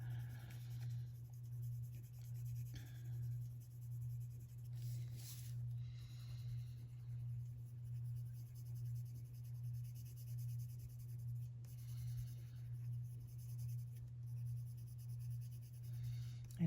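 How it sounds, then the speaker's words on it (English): A coloring pencil glides softly over Faber-Castell Gelatos on paper in an adult coloring book, faint continuous scratchy strokes over a steady low hum, with no talking. "feels like the pencil even glides over the top of these gelatos and blends even more nicely than if it was straight onto the paper"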